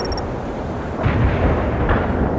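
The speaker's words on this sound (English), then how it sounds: "The airstrike is on the way." Airstrike explosions in the World in Conflict strategy game, a dense, roaring wall of low booming blasts that swells louder partway through and rumbles on continuously.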